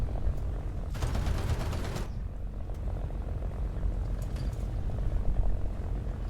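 In a video game, a J2M2 fighter plane's 20mm cannons fire a burst lasting about a second, ripping over a low engine drone, followed by a few fainter distant shots.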